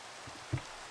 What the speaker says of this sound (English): Man, I actually love this rain sound. It's so much nicer than the earlier versions.